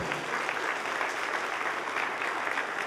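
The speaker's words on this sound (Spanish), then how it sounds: "Le damos un aplauso" A church congregation applauds for the Lord, a steady dense wash of clapping from many hands filling the room with no break.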